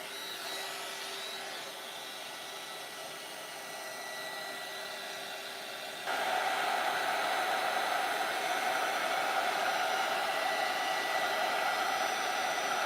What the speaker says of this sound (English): I'm just going to dry this quickly.